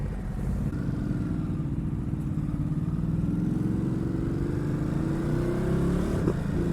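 The engine of a 2020 Ducati Supersport S sport bike, related to the Hyper Motard 939 unit, gives a steady low burble while riding, its pitch climbing gradually under wind noise, with no talk.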